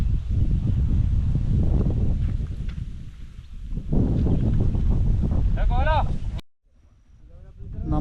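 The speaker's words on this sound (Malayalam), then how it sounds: "ഇളം കാറ്റും മഞ്ഞും മുകളിൽ കാറ്റുണ്ട്" Strong wind on a misty hilltop in Idukki buffets the microphone in a loud, rumbling roar that surges and eases, with brief faint voices and a sudden cutoff near the end.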